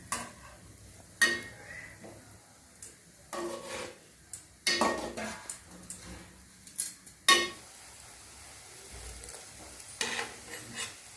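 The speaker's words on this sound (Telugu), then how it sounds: "ఇలా బ్రౌన్ కలర్ వచ్చేంత వరకు మనం ఫ్రై చేయాలి" Food shallow-fries in a pan until brown: a faint low sizzle broken by several loud bursts of stirring, scraping and clinks of a utensil against the pan.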